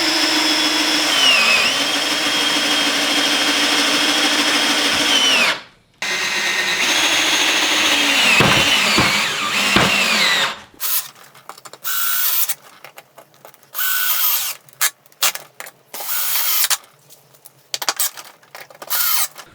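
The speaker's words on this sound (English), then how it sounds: "The tack screws can drill into the metal." A power drill drives tack screws into a steel dog kennel's metal roof, whining in long sustained runs that slow and strain, then gives way to short, choppy bursts of drilling with gaps between.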